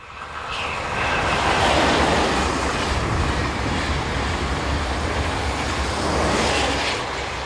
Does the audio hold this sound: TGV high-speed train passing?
yes